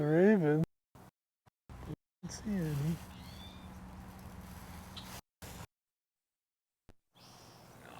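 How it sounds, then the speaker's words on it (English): A raven calls outdoors at Sargeant Bay, two loud wavering croaks near the start and again a few seconds later, with faint higher bird calls and quiet gaps between. "Can hear the raven."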